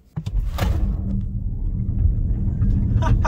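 A car launching hard from a standstill during a 0-60 mph run, a deep rumbling engine roar building steadily after a sharp thump at the start, heard from inside the cabin.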